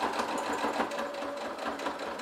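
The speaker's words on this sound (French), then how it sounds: "je continue à coudre sur environ 1 cm" A sewing machine stitching the seam of a fabric makeup pouch, a fast, even mechanical chatter of the needle running steadily and close by for the whole stretch, fairly quiet overall.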